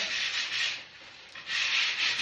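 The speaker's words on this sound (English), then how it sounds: "doing a little bit of sanding for the second coat" Rhythmic scratchy rubbing of sandpaper on a wall between paint coats, two long strokes separated by a short pause, close and fairly loud.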